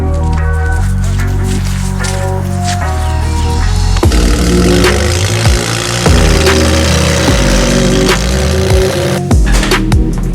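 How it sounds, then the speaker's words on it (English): A Can-Am X3 engine runs and pulls away, its loud, rough mechanical note mixed with harsh grinding from a faulty front differential, steady throughout with intermittent clunks. "So don't mind the grinding as I drive away. It's just a front differential, not important."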